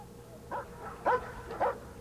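A protection dog in training barks three times in short, evenly spaced bursts, fairly close, over a low background hum.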